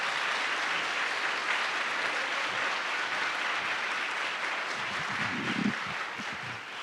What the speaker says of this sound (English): they deserve a big round of applause